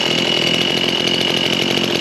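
A Husqvarna 122LK string trimmer, a small two-stroke engine that only runs with the choke on, buzzes steadily and loudly at a high, even pitch close by with no voices.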